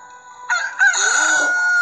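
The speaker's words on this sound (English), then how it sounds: "he heard rooster crow" A rooster crows alone in a single clear cock-a-doodle-doo, loud and close, rising sharply at the start and then holding a long drawn-out final note.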